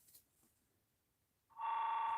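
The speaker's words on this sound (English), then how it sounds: "The phone's ringing." A telephone starts ringing after a short near-silence, a loud electronic trill that begins abruptly and continues steadily.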